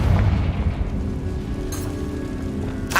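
A Confringo spell explosion in the video game Hogwarts Legacy lands as a deep, booming blast at the start, followed by a rumbling tail and a couple of softer bursts, with no talking over it.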